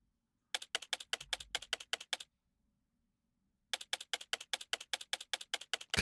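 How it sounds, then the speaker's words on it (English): Typewriter-style text typing effect in the video game Tokyo Psychodemic, two bursts of evenly spaced crisp key clacks separated by a short silence, close and clean. "Could this typing be any slower?"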